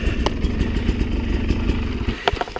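A KTM dirt bike engine idles and runs on a single-track trail, a steady close mechanical throb with light clatter and a couple of quick rev blips near the end.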